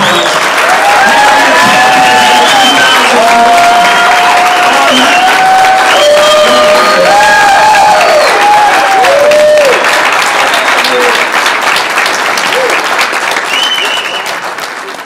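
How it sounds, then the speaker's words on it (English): A crowd at an air rifle shooting competition applauds loudly and continuously, with cheers and whistles rising over the dense clapping before it begins to taper. "give these guys a huge round of applause."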